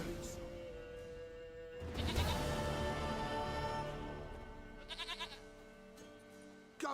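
A goat in The Witcher 3 lets out a loud, wavering bleat midway, with a shorter bleat a few seconds later over a steady background game tone.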